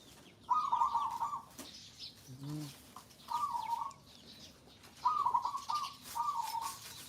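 Roosters crow several times in short bursts, spaced a second or two apart, at moderate distance over quiet outdoor background noise.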